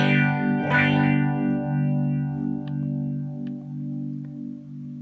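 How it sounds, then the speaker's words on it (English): Guitar through a strong phaser on a Mooer PE-100 pocket multi-effects unit: a sustained distorted chord after a hard strum, with slow, regular sweeping swirls rising and falling, loud and alone. "Quite a strong phaser."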